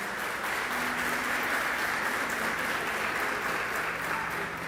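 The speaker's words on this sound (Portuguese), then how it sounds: "Você pode aplaudir ao Senhor, irmão?" A church congregation applauds during a sermon, producing a broad, even wash of many hands clapping with steady intensity, slightly distant and reverberant, with no clear talk over it.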